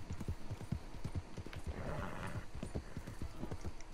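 A horse's hooves clip-clop steadily in a video game, with an occasional whinny, a brisk even rhythm of hoofbeats over game background noise.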